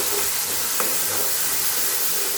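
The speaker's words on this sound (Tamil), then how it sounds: "பச்சை வாசம் போகிற மட்டும் நல்லா வதக்கணும்." Garlic, pepper and other ingredients for a garlic-pepper gravy sauté in a hot pan, making a constant close hiss and sizzle with a faint clink partway through and no voices.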